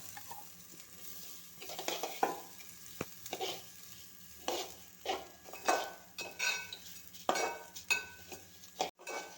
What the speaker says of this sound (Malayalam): നമ്മൾ നേരത്തെ കഴുകി ഊറ്റി വെച്ചിരുന്ന അരി ഇതിലേക്കിട്ട് വറുക്കാം